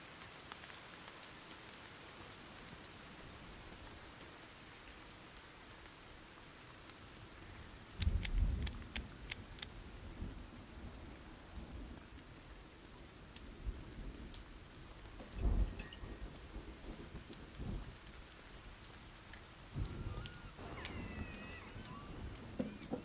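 Rain and thunder in the survival game Sons of the Forest, a steady hiss of rainfall with occasional sharp cracks and rumbles of thunder, fairly quiet throughout with no talk.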